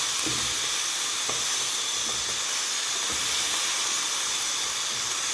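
A pressure cooker vents steam in an unbroken, loud hiss with a faint whistling tone inside it, running steadily from start to finish.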